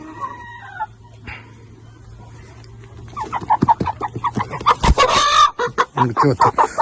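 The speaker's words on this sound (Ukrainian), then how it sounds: "Оце такі дві наші маранші." Marans chickens clucking close by in a farmyard, quiet at first, then a dense burst of repeated clucks and squawks that grows loud and busy, with a faint steady hum underneath.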